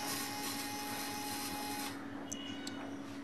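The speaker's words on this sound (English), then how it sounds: "the first actuator is rotating. When it finish, the third actuator will start to rotate" An actuator rotating inside a student-built Braille embosser at BUET gives a steady, faint mechanical whir. The whir changes character partway through, and a couple of small clicks follow.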